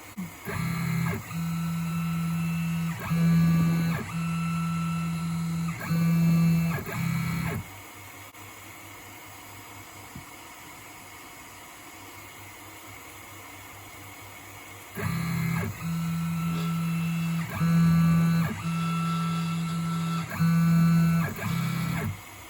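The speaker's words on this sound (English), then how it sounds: "I'm going to go ahead and hit the frame, and then we'll be ready to engrave" Laser engraver with a rotary roller runs its framing pass: a humming, stepping motor pattern in repeated bursts, then a quiet pause of several seconds before the same motor sequence starts again.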